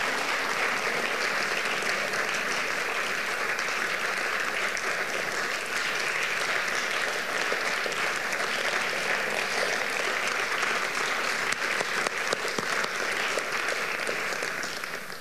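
An audience applauding at a Hungarian Culture Day event in a hall, dense sustained clapping from a crowd that holds steady for the whole stretch, close and full.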